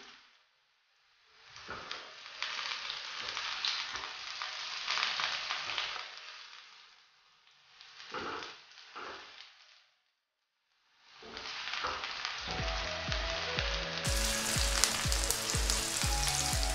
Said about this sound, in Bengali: পেঁয়াজটা হালকা ব্রাউন কালার নিতে শুরু করেছে।